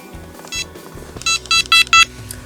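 A Prologic SMX fishing bite alarm emits a series of sharp electronic beeps, a couple of softer tones followed by four loud evenly spaced bleeps, close up with handling clicks between.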